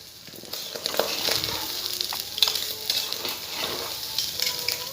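Rice with raisins and bay leaf being fried in oil for pulao, a faint soft sizzle with light scraping stirs in short bursts throughout.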